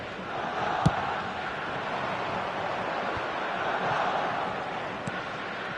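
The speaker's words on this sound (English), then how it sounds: "the crowd level has gone up a notch or 10" A stadium crowd in a football video game keeps up a steady, loud roar, a continuous wash of massed voices that swells slightly toward the end, with a couple of sharp knocks standing out.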